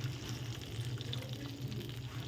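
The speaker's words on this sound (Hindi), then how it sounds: "तो उसी हिसाब से मैं इसमें पानी डाल दूँगी।" Water poured into a pot of half a kilo of rice for cooking, a steady continuous splashing and trickle close by, running evenly throughout with no talk.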